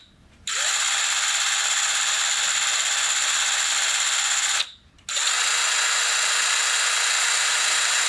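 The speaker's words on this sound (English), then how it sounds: "So the drill sound is a rather intense sound, and it's rather long-lived sound" A power drill whirs steadily at high pitch, cuts out briefly for a moment, then starts up again and keeps running, loud and close.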